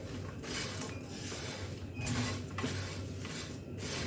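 Dry poha chivda namkeen ingredients being tossed together in a dish, with soft scraping and light clinks of a spoon against the bowl in a steady, close, quiet rustle, no voices.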